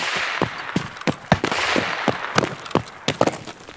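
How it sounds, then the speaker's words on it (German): Gunfire aimed at the player in the shooter game Escape from Tarkov near a radio station on a hill, a run of sharp, loud shots cracking in irregular bursts, close and clear with no talk. "Und erneut gibt es Schüsse auf mich."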